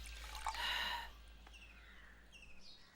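Water is poured in a short, splashy burst up close, then trails off into a faint, quiet background.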